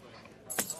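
Car keys jangle in one short, close metallic burst as they are handed over, following a stretch of quiet room tone.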